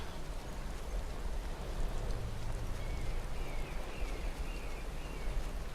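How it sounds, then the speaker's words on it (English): Steady rain falls in an icy, cold setting in Skyrim near Whiterun, a continuous soft hiss of drops spread evenly throughout with no voices over it. "It's raining in the icy cold too."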